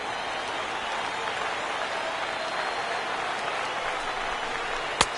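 Baseball crowd at a Rays vs Yankees afternoon game rising and applauding, a steady broadband wash of clapping and cheering that holds evenly throughout, with a sharp crack near the end.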